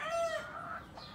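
A fighting rooster gives a short, faint clucking call with a few tonal notes, heard at a distance against quiet background noise, no talking.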